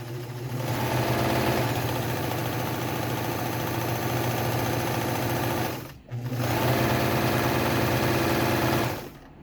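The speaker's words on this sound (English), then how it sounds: "So we set it all the way to the red bar on the stitch length knob" A vintage Kenmore 158.15160 sewing machine stitching slowly at its finest stitch length, a loud steady motor hum with rapid needle clatter, briefly stopping near the end before running on again.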